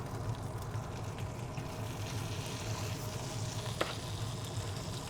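Chicken pieces searing in a pan, a steady low sizzle and crackle at moderate level throughout, with one sharper tap or scrape partway through and no voices.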